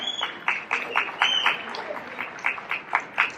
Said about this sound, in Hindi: कृपया एक बार तालियों से स्वागत कीजिए